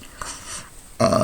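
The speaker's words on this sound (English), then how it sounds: "Excuse me while I burp." A person lets out a short, loud burp near the end, preceded by quieter breathy sounds.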